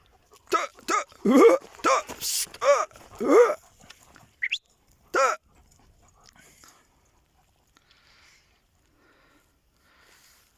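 Akbaş livestock guardian dogs give a burst of short whines and yelps close by, several in quick succession, then fall quiet.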